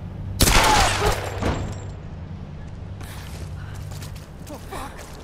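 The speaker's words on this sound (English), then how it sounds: "I'm gonna have to shoot this." Gunfire in Tomb Raider: Definitive Edition, one loud near blast with a crackling burst followed by a quieter second shot and low rumbling hum, then faint scattered clatter.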